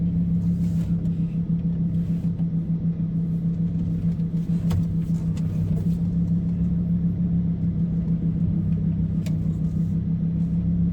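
Lamborghini driving through New York City streets, heard from inside as a steady, loud low engine drone and road rumble throughout, with faint traffic clicks above and no speech.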